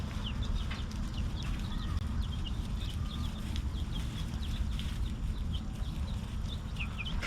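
Young pullets kept as future layers cluck and chirp in a tiny backyard coop, many short calls scattered over a constant low background hum, fairly close with no talking.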